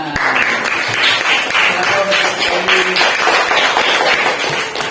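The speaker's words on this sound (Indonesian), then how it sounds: "beri tepuk tangan kepada kelompoknya Rena." Primary school pupils in a classroom clap for a student group after its science presentation, a close, lively burst of uneven hand claps with voices and a few tonal sounds mixed in.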